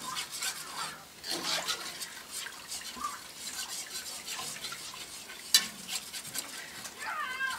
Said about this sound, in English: It's really important to keep stirring your gravy, because that will eliminate the lumps.